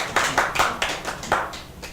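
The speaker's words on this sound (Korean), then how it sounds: "이쯤 되면 박수 쳐줘야 되는 거 아닙니까?" A few people in a church congregation clap during a sermon, about half a dozen distinct, sharp hand claps in an uneven rhythm, fairly quiet and fading toward the end.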